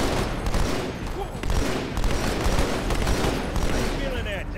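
Rapid triple-burst rifle fire in Halo 2, loud repeated bursts in an uneven rhythm, over a busy background of combat noise and speech.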